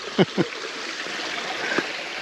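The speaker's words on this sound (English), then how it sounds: "There's a little creek. A little creek crossing." A small creek flowing at a trail crossing on a Pine Mountain hike: a steady, soft trickle of moving water with a few brief nearby splashes or footsteps and no talking.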